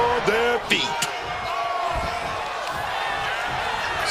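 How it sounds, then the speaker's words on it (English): A packed wrestling arena crowd cheers and roars as a steady wash of noise, with a few sharp slams and thuds from the ring early on and an announcer's voice talking over it. "Just listen to this crowd."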